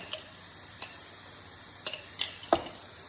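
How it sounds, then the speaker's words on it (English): Spoon stirring egg and tomatillo salsa together in a small bowl, giving a handful of sparse, light clicks and scrapes over a quiet background. "We're just gonna stir them together."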